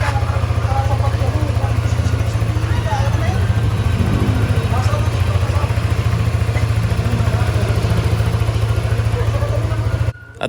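A motorcycle engine idles close by with a steady, loud, low throbbing drone and some light mechanical clatter, continuing evenly until it cuts out near the end.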